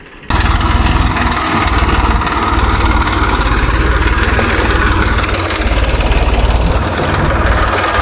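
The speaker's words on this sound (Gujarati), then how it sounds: "ચાલો ટ્રેક્ટર આવી ગયું છે ચાલો કાઢીને બતાડો હમણાં" A loud tractor engine runs steadily up close on a farm, a continuous low chugging rumble with no break.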